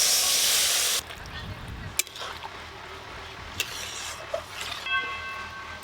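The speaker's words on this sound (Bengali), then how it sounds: "এবার জল দিয়ে দেব" Water poured into a pan of fried spice paste with ground poppy seed sizzles in a loud hissing rush. The hiss cuts off after about a second, and a quieter simmer with occasional light clinks follows.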